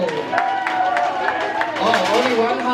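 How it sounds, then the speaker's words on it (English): Crowd applause for Reno, a fire dancer at a Samoan Siva Afi fire dance performance: clapping and cheering mixed with lively voices calling out over it, busy and fairly loud throughout. "another round of applause for Reno!"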